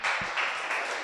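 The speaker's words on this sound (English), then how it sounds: "we welcome Jessica with an applause" Brief burst of audience applause welcoming a speaker at a Python Day conference talk, moderately quiet and lasting only about a second.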